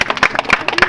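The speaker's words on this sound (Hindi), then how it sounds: "ताली बजाओ जल्दी बजाओ" Hands clapping at a family engagement ceremony, a quick run of sharp, irregular claps close by, with voices faintly mixed in.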